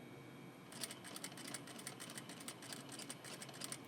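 A sewing machine stitches a fabric label, its rapid mechanical clatter running steadily and fairly close for a few seconds after a brief quiet start.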